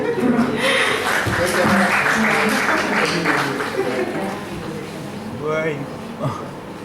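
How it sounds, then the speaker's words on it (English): Audience applause at an academic seminar on completing a PhD, steady clapping from a small crowd that gradually fades, mixed with chatter and a brief chuckle near the end. "Please give a big clap."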